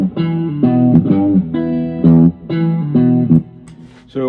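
A looped electric guitar plays E Mixolydian double stops in thirds, the chords repeating in short sustained pairs at a steady rhythm. The sound is clear and close, with no voices.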